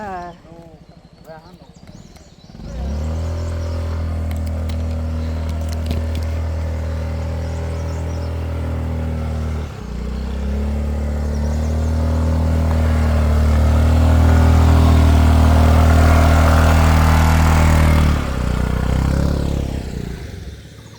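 A motorcycle engine on a steep hill trail to a mountaintop shrine hums steadily up close, rising slightly as it labours, with a brief break midway and some talk early on.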